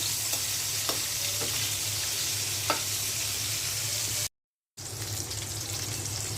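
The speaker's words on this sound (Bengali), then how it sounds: "মাছ ভাজাটা উল্টে দিচ্ছি" Fish fries in oil in a frying pan, a steady sizzle running throughout with a few sharp crackles and spatters, briefly cut off near the end before resuming.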